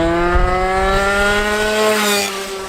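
Two-stroke racing go-kart engine revving hard and close, a buzzy high-pitched whine that climbs steadily in pitch then drops off near the end.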